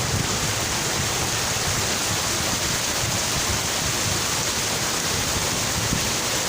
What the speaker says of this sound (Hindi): पानी बहुत पड़ रहा है